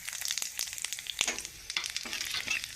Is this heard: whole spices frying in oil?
yes